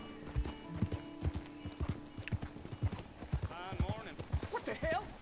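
Horse hooves clip-clopping in Red Dead Redemption 2, a quick steady rhythm of hoofbeats passing close by, with a brief whinny near the end and someone talking over it.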